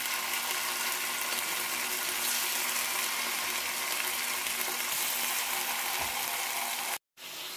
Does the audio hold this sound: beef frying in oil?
yes